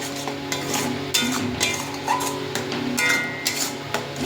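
Tomato paste frying with cumin in a pan, a loud, close sizzle under repeated scraping stirs in a loose rhythm, with small clinks of the utensil against the pan.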